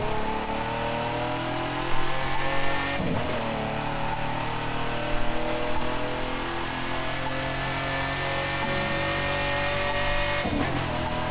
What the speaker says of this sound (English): On the rev limiter into fourth gear there. Oh yes, into fifth as we go over the bridge